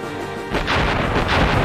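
Starship cannon volleys and chained explosions from the Galaxy Angel video game, a quiet moment giving way to a dense, loud rumble of overlapping booms and blasts.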